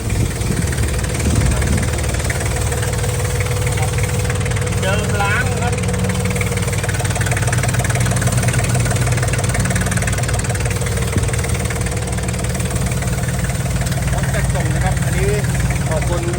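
A small Japanese tractor with a 21 hp three-cylinder engine idles steadily and loudly nearby, its low rumble continuous throughout while someone talks over it.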